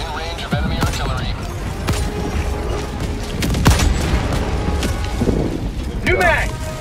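Orbital strike explosions in Helldivers 2 boom and crackle in a dense barrage of blasts and gunfire, loud and continuous, with voices talking over the battle.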